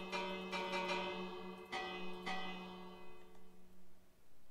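A village bell in a blocky survival video game rings with a sustained metallic tone, struck several times in quick succession and then twice more, its resonance fading away softly with no talking.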